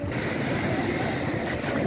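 A small fishing boat out on the sea at Puri, with a continuous rumble of wind buffeting and waves washing around the hull, loud and steady with no pause.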